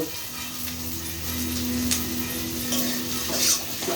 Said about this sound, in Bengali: পেঁয়াজ রসুনটা এখন কষানো হচ্ছে